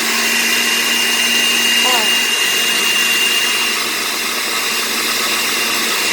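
A blender churns a green smoothie thick with solids, giving a loud, steady motor whine that barely wavers across the whole stretch, with a brief pitch shift partway through.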